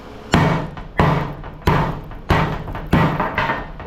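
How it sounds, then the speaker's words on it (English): A hammer strikes the corners of a scrap transformer, six loud metallic impacts spaced at a steady rhythm about two-thirds of a second apart, each ringing briefly before the next, close to the microphone. "what I do is I just crack the corners right here with a hammer until this splays out"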